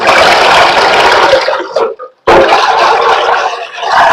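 Soaked rice and urad dal being washed in water, a loud close sloshing and swishing with a brief pause midway before the swirling water resumes.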